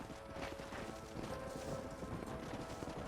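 Horse hooves clip-clopping steadily in Red Dead Redemption 2 during horse breaking, a continuous run of quick, even hoofbeats at moderate level with no talk over them.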